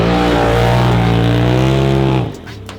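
Polaris RZR side-by-side fitted with a new belt, its engine running loud and close with a steady droning hum that drops off sharply near the end.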